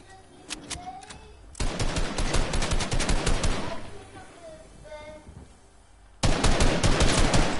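Rapid bursts of laser weapon fire in a video game, loud and dense, coming in two long volleys with a quieter stretch between them.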